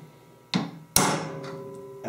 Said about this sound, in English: one good tap of the hammer should get it embedded in there